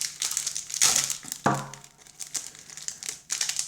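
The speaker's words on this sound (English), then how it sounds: "I probably should have bought scissors when I was opening these sleeves." Plastic packaging of Dark Hax card sleeves crinkled and torn open by hand, close and fairly quiet, in irregular bursts of crackling with short pauses between them.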